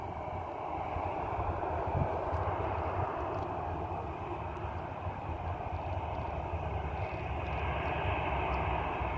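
An airliner flies toward the runway at an airfield, its jet engines giving off a steady, even roar that holds at moderate distance for the whole stretch.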